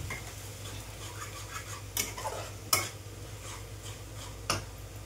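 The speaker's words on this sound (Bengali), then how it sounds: "পেস্টটা দিয়ে ভালো করে কষাবো, যতক্ষণ না মশলার গন্ধটা চলে যায় ততক্ষণ ভালো করে কষিয়ে নেবো এটাকে" A tomato, onion and spice paste fries quietly in a pan while being stirred, a faint sizzle under a low hum with a few crisp clinks and scrapes of the spoon against the pan.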